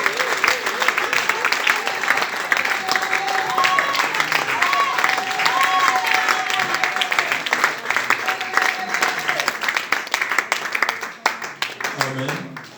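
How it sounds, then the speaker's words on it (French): A church congregation cheers and applauds loudly for the Lord, with sustained clapping, shouting and whistles from a crowd that stays dense for about eleven seconds, then thins toward the end. "Acclame au Seigneur très fort."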